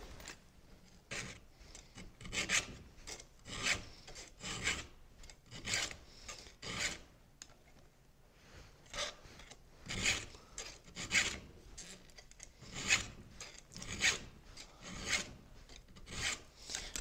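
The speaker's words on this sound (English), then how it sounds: "I definitely prefer hand sharpening my saws." A saw being sharpened by hand with a file, giving steady rhythmic rasping strokes, close and fairly quiet, repeating about twice a second throughout with no talk.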